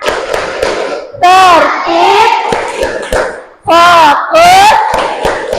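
A class of children performs a rhythmic class clap routine, a patterned series of sharp hand claps with shouted chanting in between, loud and close in a classroom, with a teacher's voice heard.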